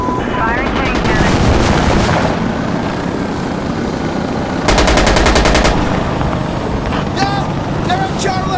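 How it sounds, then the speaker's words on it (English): Heavy gunfire from the shooter game Insurgency: Sandstorm plays loud and nearly continuous, with dense automatic bursts and a sharper rattling volley in the middle, set against a busy battlefield backdrop and a voice talking over it. "Shooting at us."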